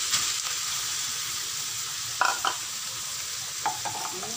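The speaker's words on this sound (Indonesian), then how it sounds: "Sekarang saya masukkan suunnya ya." Sohun rice-vermicelli noodles with tofu and cabbage frying in a pan as home dinner, a steady soft sizzle carrying throughout with a few brief scraping stirs of a spoon, no talking.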